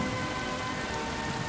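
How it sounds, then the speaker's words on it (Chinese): Heavy rain pours down steadily at an outdoor village funeral gathering, a dense, continuous hiss of drops on the ground with no pauses. "天上在下雨"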